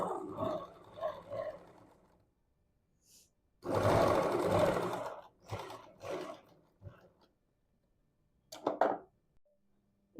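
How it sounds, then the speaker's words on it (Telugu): A sewing machine stitches a prince cut blouse, sounding as several separate bursts of motor whir of different lengths, with the longest and loudest run near the middle and short pauses between them. "ఇక్కడ దాకా తీసుకొని నీట్‌గా ఇట్లా స్టిచ్ చేసుకోవాలి"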